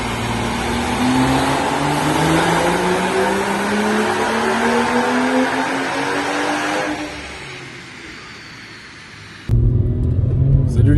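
BMW 140i tuned to stage 3, over 600 horsepower, revving hard: a loud rising engine note climbing through the gears for several seconds, then easing off and fading, before a sudden cut to a louder, rougher rumble.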